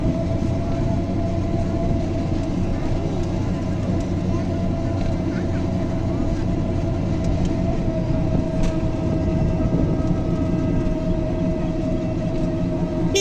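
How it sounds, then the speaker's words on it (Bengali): Steady rumble of a train at a railway station, a continuous low mechanical drone with faint higher hiss, heard from nearby throughout with scattered voices in the background. "এই যে আমরা রেল স্টেশনে উঠতেছি"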